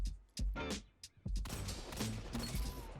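Luna's Howl hand cannon fires in a video game, a few sharp, heavy shots spaced over about a second, then a rumbling, ringing tail of impacts and echoes.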